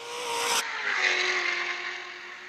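Race cars at Ozarks International Raceway during championship qualifying, an engine roaring near then cutting abruptly to a steadier distant drone with a tire squeal, loud and continuous.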